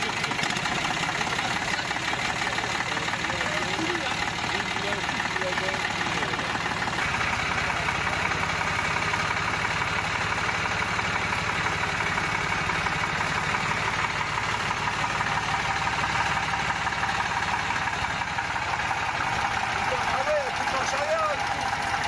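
An old tractor engine idling just after starting, a continuous loud rumbling drone with a knocking vibration that holds steady throughout.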